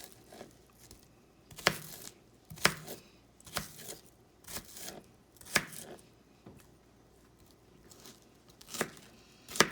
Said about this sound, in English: I hate cutting onions.